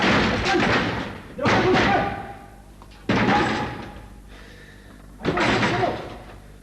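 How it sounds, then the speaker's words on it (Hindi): Heavy thuds of someone banging on a locked door, in four loud bursts with gaps between, each fading out; a voice can be heard among the thumps. "अजमल, मैं कहता हूं दरवाजा खोलो।"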